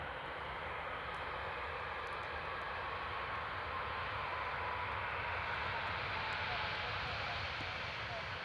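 Jet engine roar from a FedEx Boeing 737 cargo plane just after touchdown at Teesside Airport, a steady broad rumble filling the whole stretch, fairly distant and unchanging.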